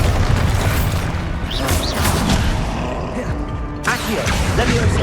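Loud Bombarda blasts in Hogwarts Legacy spell combat, deep booms and smashing crashes layered over constant rumbling battle noise, with a sharp burst near the end and some voice mixed in.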